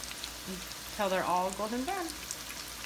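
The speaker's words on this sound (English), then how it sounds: "we're gonna go ahead and just drop it into the deep fryer" Rolled tacos (flautas) dropped into a deep fryer give a steady, soft bubbling sizzle of hot oil, close by, while a voice speaks briefly partway through.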